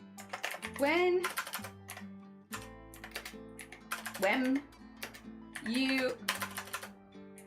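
Typing on a computer keyboard produces quick runs of clicks and taps in bursts, heard under and between steady talking by a person and background music.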